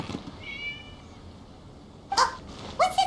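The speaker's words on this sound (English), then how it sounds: "It was just a cat." A cat meows in a video game: a faint, drawn-out mew early on, then two sharper, louder meows near the end, set against a quiet background with no talking.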